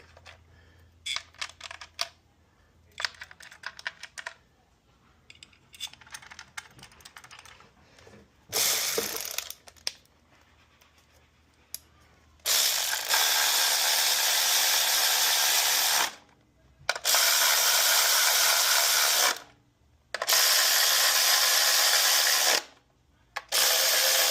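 A ratchet works on the bolts of a 2022 Toyota RAV4 engine cover after a spark plug change, with quick clicking bursts at first, then long loud runs of ratcheting separated by brief pauses.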